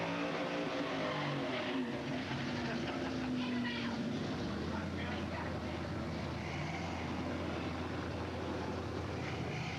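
A drag race car, among Mustangs, Camaros, Corvettes and a twin-turbo BMW, drones loudly at a strip, its engine pitch sliding down around a missed gear before settling to a lower steady rumble as it backs off, with crowd noise and faint voices.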